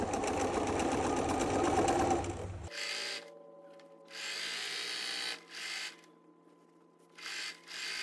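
A sewing machine stitches a flannel rag quilt, running in a loud continuous whir at first, then pausing and restarting in short, quieter bursts of mechanical buzzing.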